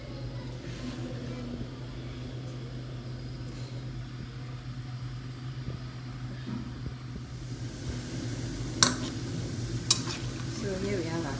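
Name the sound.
chin chin dough frying in hot oil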